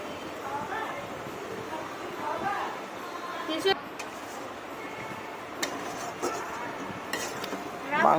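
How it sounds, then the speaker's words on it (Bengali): Chicken pieces sizzle in a pot for biryani, a steady hiss of frying with occasional clinks of a spoon against metal, while someone talks over it. "মাংসটা ফার্স্টে কষিয়ে নিচ্ছি আমরা খুব ভালো করে"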